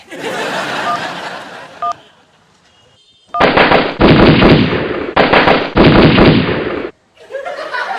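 Gunfire in a Hindi comedy drama scene, loud sustained bursts of rapid shots lasting a few seconds and split by a brief gap, with voices heard before and after.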